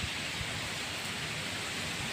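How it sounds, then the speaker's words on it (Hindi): Heavy rain pours down steadily in cold weather, a dense, even hiss with no pauses and no voices. "बारिश हो रही है तेज़"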